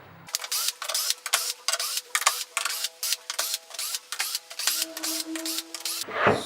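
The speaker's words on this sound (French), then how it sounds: "On peut maintenant enlever toutes les vis" Screws are backed out of a two-material table, giving a rapid string of short, buzzing mechanical pulses that sound close and fairly quiet, then stop abruptly.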